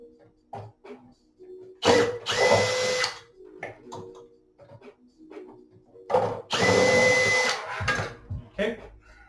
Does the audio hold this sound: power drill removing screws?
yes